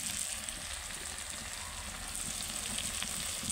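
Onion and capsicum with ginger garlic paste frying in a pan give a steady, soft sizzle with faint crackles, continuous and fairly quiet with no talking.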